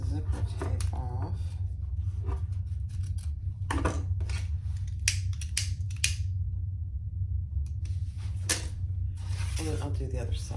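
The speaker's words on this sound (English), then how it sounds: "Trim my excess zipper tape off." Scissors snip away excess zipper tape while sewing a retro-style sling bag, several short crisp cuts and rustles over a steady low hum, with a few brief vocal sounds.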